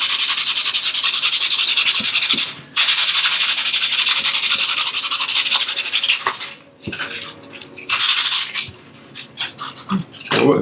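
A painting surface is sanded for an underpainting with loud, close, rasping strokes. The first long stretch runs unbroken, then it breaks into shorter bursts with brief pauses.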